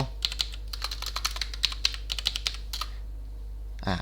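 Rapid keystrokes on a computer keyboard, crisp and close, tapping in an uneven run of about twenty presses before stopping, with no talking.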